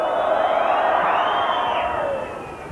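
A packed rugby league crowd at Headingley gives off a broad, sustained roar that swells and then eases toward the end, heard alone without talk.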